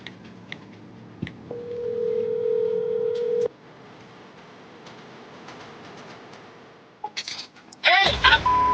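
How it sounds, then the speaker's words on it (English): A telephone call is dialed and rings: scattered keypad blips, then a steady tone for about two seconds, a quiet stretch, and a burst of bright electronic ringing near the end. "Let me make a phone call in, and hopefully she'll answer."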